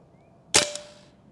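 A single sharp report from a semi-automatic air rifle firing an 81 grain target pellet, loud and close, with a short ringing decay and no talk.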